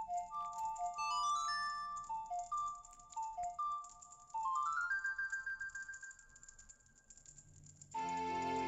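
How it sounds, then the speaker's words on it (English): Ocarina melody of the Sun's Song from Zelda Ocarina of Time 3D, a bright rising and falling tune of clear whistle-like notes followed by a short chime-like fanfare, alone with no voice. "I guess we should play it with our ocarina."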